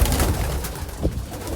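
A racing pigeon being caught and handled in a loft, giving close, low cooing calls that are clear and fairly loud, with no voice over them.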